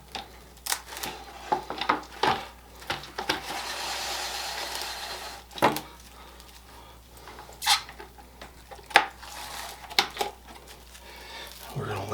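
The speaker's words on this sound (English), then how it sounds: "I'll just get out a piece of plastic wrap here." Plastic wrap is pulled from its roll and laid over a cake pan while making an ice cream cake, giving crinkly rustles and sharp tearing snaps at irregular intervals, close and fairly quiet, with a person talking in between.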